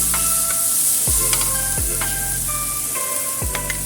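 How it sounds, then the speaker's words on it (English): Celery stir-fries with salt in a hot wok, a continuous loud sizzle broken by repeated scraping strokes of a turner against the pan. "Stir fry."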